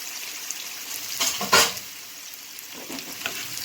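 Salmon fries and browns in a pan, a steady moderate sizzle with a couple of louder bursts of spattering and a few light scrapes.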